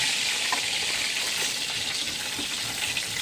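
Chicken pieces fry in hot oil for biryani, a dense, steady hiss of bubbling oil heard close and loud throughout, with faint stirring clicks and no voices.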